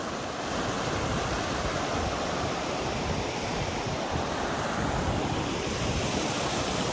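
Heavy rain and rushing water make a steady, dense roar that stays constant throughout, with no voices.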